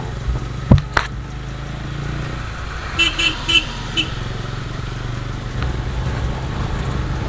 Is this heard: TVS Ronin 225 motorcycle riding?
yes